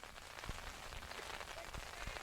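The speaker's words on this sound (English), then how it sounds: "Big rain shower coming through right now." A steady rain shower pours down at an outdoor high school baseball game, a dense, even hiss of drops on surfaces with a few faint knocks, and no one speaking.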